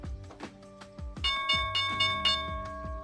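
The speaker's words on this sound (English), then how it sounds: "All right, here's the bell." The stock market opening bell rings out loud and close in a quick series of bright, repeated metallic strikes, each leaving a sustained ringing tone that overlaps the next.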